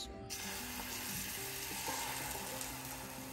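An egg omelette mixture sizzles on a mini electric griddle, a steady, close, bright hiss that starts abruptly and holds without a break, with faint clicking and no talking.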